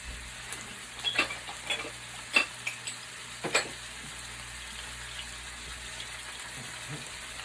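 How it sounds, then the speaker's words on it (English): Beef browning in an Instant Pot for birria tacos gives a steady close sizzle with scattered sharp crackles and pops, and a low hum underneath. "Remember, you're not cooking it. You're just browning it."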